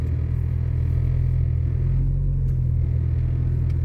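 A 1996 Jeep Cherokee XJ drives on a newly installed, rough-running front axle, heard from inside as a loud, continuous low engine and drivetrain rumble with a steady hum and no talking.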